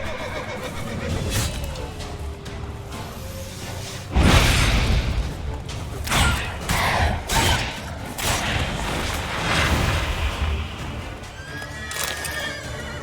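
Roach, the horse in The Witcher 3, neighs and whinnies several times amid hoof clops and scuffling combat noises, with bursts of louder thuds and clatter scattered irregularly across the scene.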